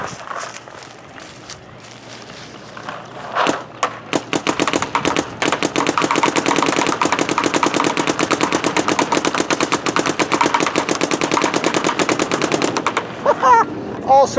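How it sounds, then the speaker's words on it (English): An Etha 2 paintball gun with a PAL loader fires in ramp mode: after a few separate shots, a long, loud, rapid stream of pops runs close-up for about ten seconds before cutting off. "Let's try and shoot the Etha 2 with the PAL loader on ramp"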